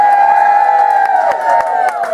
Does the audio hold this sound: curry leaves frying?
no